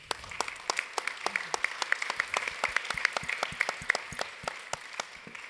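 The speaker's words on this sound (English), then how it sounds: "Je propose qu'on l'applaudisse aussi." Conference audience at a press-cartoon symposium applauding a speaker, a moderate crowd of many overlapping claps forming a steady, brisk patter, somewhat distant and soft, with no talking.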